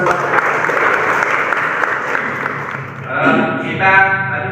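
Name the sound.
classroom applause, clapping hands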